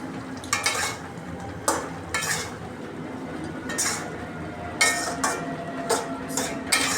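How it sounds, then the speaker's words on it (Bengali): A pot of vegetables and singi fish is uncovered and stirred, giving a run of irregular metallic scrapes and clinks from the spoon over a soft background sizzle. "এখন আমি ঢাকাটা খুলে নেড়ে নিই, দেখবো কেমন হয়েছে।"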